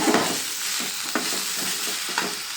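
Sambar ingredients stirred and fried in a pan over high flame, a steady loud sizzle with repeated scraping strokes of a spoon, no voices.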